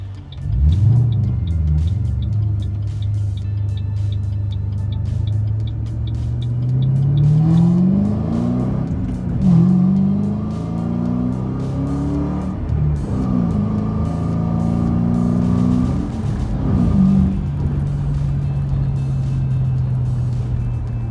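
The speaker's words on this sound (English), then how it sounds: "I'm gonna turn onto this road and I'm gonna show you speed shifting." A car engine revving hard through quick gear changes during speed shifting on a road, loud and close, with repeated climbs in pitch, brief dips at each shift, then a steady drone.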